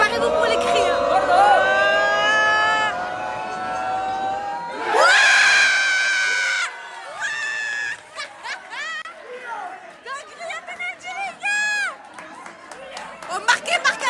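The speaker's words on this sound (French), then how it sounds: "Préparez-vous pour les cris." A group of people screams and shrieks in loud bursts, with shouting, laughter and talking in between and scattered sharp cries toward the end.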